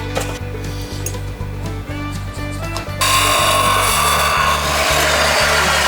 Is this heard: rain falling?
no